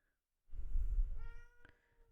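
A pet cat gives one drawn-out meow, close and clear, starting as a low breathy rumble and rising into a tonal cry that fades out.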